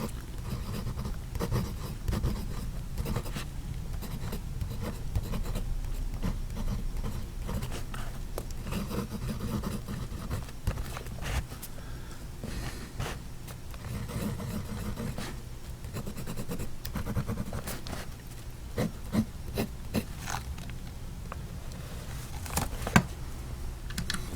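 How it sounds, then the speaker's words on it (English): A PenBBS 480 fountain pen writes on paper, producing continuous soft scratchy strokes with small taps and pauses, heard close and alone for a long stretch. "I think you've heard this pen writes very smooth."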